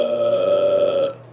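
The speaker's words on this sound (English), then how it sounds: "Scary story burp, not sausage burp." A long, drawn-out burp, loud and close, with a steady tonal drone lasting over a second before cutting off, alone with no talk.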